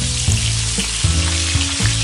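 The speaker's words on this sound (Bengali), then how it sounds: "এরপর আমরা কাতল মাছের গোটা মুড়োটাকে ভেজে নেব।" A whole catla fish head fries in hot oil, giving a loud close sizzle with rhythmic surges and crackles that repeat several times, heard alone without talk.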